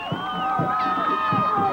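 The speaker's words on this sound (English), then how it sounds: "the crowd going absolutely nuts as the coach of the Toledo Storm comes by" A crowd cheers and roars at a Toledo Storm hockey championship parade as the team's coach passes by, a loud wash of voices with distant horn-like tones and bursts of shouting, and someone speaking over it.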